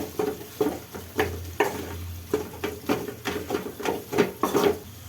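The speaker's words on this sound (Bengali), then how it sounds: "আর বাকি মশলার মধ্যে মেস করে রাখা আলু দিয়ে ভালো করে আমি কষে নেবো আলুটাকে" Mashed potato cooks down with spices in a hot pan, stirred in a steady rhythm of about ten scraping strokes over a gentle background sizzle, close by and without voices.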